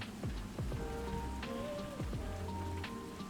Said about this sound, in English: the other reason that I have the rain set up in my just chatting screen